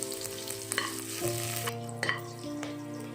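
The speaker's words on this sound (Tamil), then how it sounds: "கொஞ்சமாக பூண்டு, ஒரு கீரின பச்சை மிளகா சேர்த்து வதக்கிக்கிறேன்" Garlic and green chilli sautéing with whole spices in a pan for rajma pulao, a quiet, steady sizzle broken by a few sharp stirring scrapes against the pan, with no talking.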